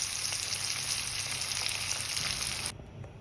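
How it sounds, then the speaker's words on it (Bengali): Eggs frying in oil seasoned with turmeric and salt give a loud, steady close sizzle that drops off sharply near the end, with no voices. "এবার আমি ডিমটাকে বেশ লাল করে ভেজে নেব"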